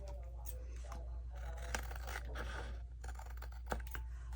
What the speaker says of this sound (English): I want to trim this to the book page